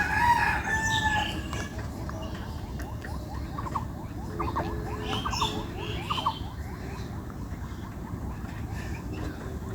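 Chickens and roosters crow and cluck amid the busy hubbub of a live bird market selling ducks, chickens and pigeons, with repeated crowing and scattered calls over steady crowd noise.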